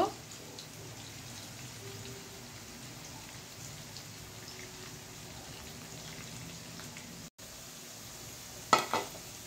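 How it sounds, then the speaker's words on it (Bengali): Potatoes frying in oil for chicken curry, a steady soft hiss and crackle like light rain, close but quiet, with a brief clatter near the end. "আলুটা লাল লাল করে আমি ভেজে নেব।"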